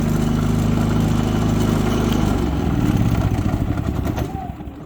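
A farm generator's engine, one of two units run on 240 volts, climbs back up to speed, a loud, steady drone whose low hum shifts pitch partway through before settling with some clatter.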